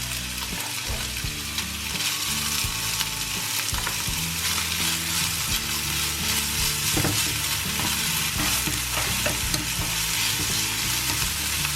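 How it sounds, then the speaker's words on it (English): Ham and bacon fry in a pot with a loud, continuous sizzle and crackle, close by, with occasional stirring scrapes and no speech. "So while our ham and bacon is frying"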